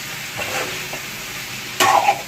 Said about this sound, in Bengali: দিয়ে এবারে কিন্তু ভালো করে একটু নেড়ে চেড়ে নিতে হবে।